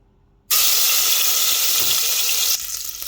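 Garlic paste drops into hot oil in a pan, setting off a sudden, loud, hissing sizzle that holds steady for about two seconds before easing slightly.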